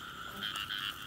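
Several frogs croak in a steady, overlapping chorus while a frog hunter walks among them at night, the calls fairly close and continuous with small swells in loudness and no talking.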